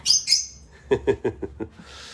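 Birds chirp inside an enclosed four-season solarium, first two high bright calls, then a quick series of five or six lower, evenly spaced chirps, close and clear with no talking.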